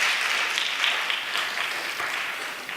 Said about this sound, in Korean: 이 나오시는 분들 박수 한번 해주시겠어요?